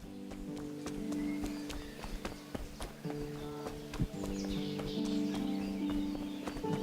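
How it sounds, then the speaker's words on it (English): Horse hooves in the video game Kingdom Come: Deliverance, an irregular run of clip-clop hoofbeats over a steady ambient backdrop. "Ver se eu consigo pegar um cavalo agora pra fugir do castelo"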